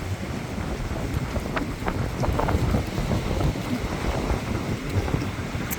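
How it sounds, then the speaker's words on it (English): Wind blowing outdoors on a cold, scenic day in Bakewell, Derbyshire, with loud steady gusts buffeting the microphone and a low roar throughout. "It's windy"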